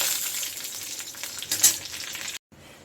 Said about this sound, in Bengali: কালো জিরা ফোড়ন দিচ্ছি আর দিচ্ছি একটা শুকনো লঙ্কা